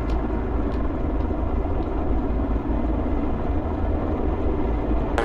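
Helicopter in the military video game ArmA, a steady droning rotor and engine rumble heard from a distance, continuous and fairly faint, with no talking.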